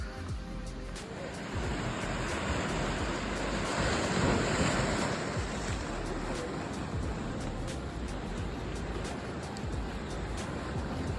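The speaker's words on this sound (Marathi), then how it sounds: "माझ्या मागं पाहू शकता तुम्ही हा आहे हरिहरेश्वरचा समुद्रकिनारा" Sea waves at Harihareshwar beach give a continuous loud surf roar, with wind buffeting the microphone throughout and no break in the wash.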